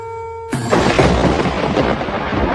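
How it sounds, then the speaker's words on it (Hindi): Thunder during unseasonal rain: after a quiet tonal opening, a sudden loud, deep thunderclap breaks in and rumbles on heavily to the end. "ये बिना मौसम की गरजती हुई बारिश हमें क्या संकेत देती है?"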